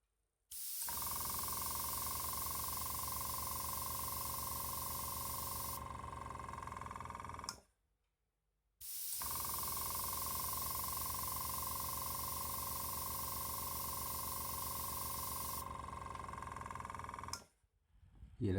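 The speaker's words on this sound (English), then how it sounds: "this is the airbrush compressor that I bought specifically for this job" A small Intertech GS airbrush compressor, rated 1/6 horsepower, runs for painting a Spitfire model, a loud steady motor drone with a hiss that cuts off and starts again, heard close with no talk.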